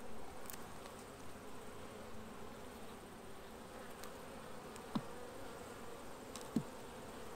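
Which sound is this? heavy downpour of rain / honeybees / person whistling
honeybees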